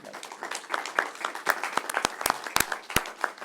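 Scattered applause from a small meeting audience, a handful of distinct hand claps standing out over a softer patter, fairly quiet and brief.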